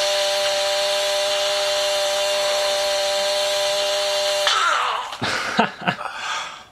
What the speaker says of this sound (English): That's why I love a chainsaw.